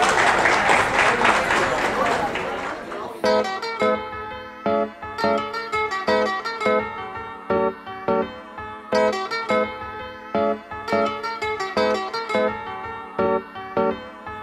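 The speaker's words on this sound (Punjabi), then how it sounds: "ਪਲੀਜ਼ ਤਾੜੀਆਂ ਨਾਲ ਉਹਨਾਂ ਦਾ ਸਵਾਗਤ ਕਰੋ" Full crowd applause welcomes a Punjabi singer to the stage at a Diwali song performance, loud for about three seconds before it gives way to rhythmic music that carries on alone.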